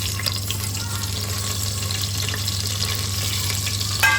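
Onion, bay leaf, black pepper, cloves and green cardamom frying in hot oil in a pressure cooker, a steady crackling sizzle over a low hum with occasional small pops near the end.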